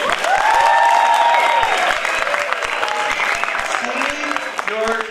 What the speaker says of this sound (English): let's have a round of applause to get us started